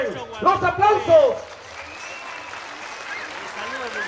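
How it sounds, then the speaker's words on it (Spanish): Crowd applause at a rural jaripeo rodeo in San Martín Tlapala, a steady broad wash of clapping that follows a loud announcer's voice at the start. "¡Que se escuchen los aplausos!"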